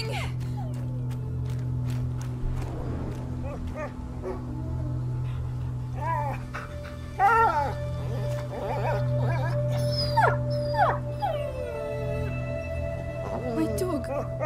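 Dog whimpering and howling in A Plague Tale: Innocence, a series of high, wavering whines and yips rising over a steady low game ambience, moderately close, with voices speaking in between.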